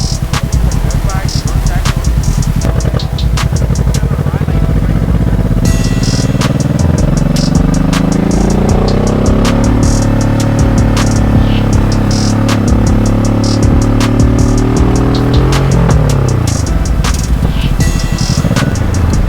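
A three-wheeler motorcycle rides along with a steady engine drone that rises and falls in pitch as it speeds up and slows. Loud wind buffeting and rumble overlay it, and a voice speaks over it.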